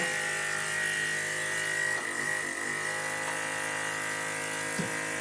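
A vacuum pump powering a vacuum-assisted sanding backing board runs on the floor with a steady motor hum and high whine, continuous and fairly close, with small mechanical clicks over it.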